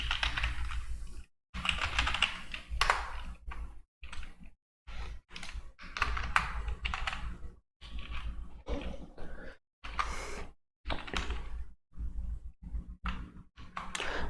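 Typing on a computer keyboard comes in short bursts of rapid, close key clicks separated by brief silent gaps, the pattern of someone entering text while working in Tally Prime accounting software.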